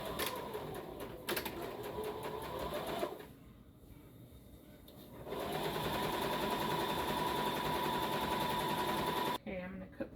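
A sewing machine stitches canvas fabric into a tube, its rapid mechanical whirring running in two long bursts with a short pause between, close and steady, with a faint voice underneath at moments.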